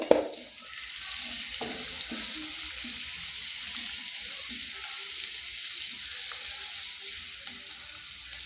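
Onions, capsicum and other vegetables with pepper powder and salt sizzle steadily in a hot pan for cabbage manchurian, a continuous close crackle with light stirring and no talk.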